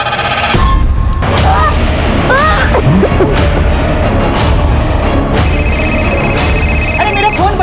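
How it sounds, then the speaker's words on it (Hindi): A telephone rings with repeated electronic trills amid a noisy, crowded Holi celebration full of honking, chatter and sharp bangs. "अरे मेरा फोन बज रहा है"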